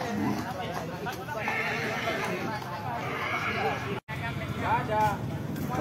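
Horses whinnying during a village horse parade with over 150 horses in Temboro, several high neighs rising out of a busy crowd, with chatter and voices throughout and a brief cut near the end.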